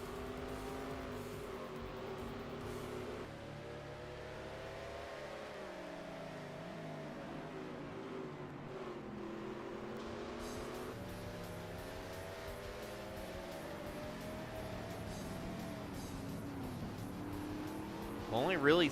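Race cars lapping Sonoma Raceway in the NASCAR Racing 2003 video game, a continuous engine roar with rising and falling revs from several cars, running under ongoing commentary.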